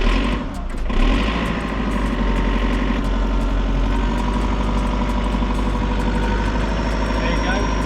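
A digger's diesel engine, freshly refuelled after a fuel filter clean, runs at a steady idle through its warm-up, a loud continuous drone with a brief bump near the start and a voice speaking over it.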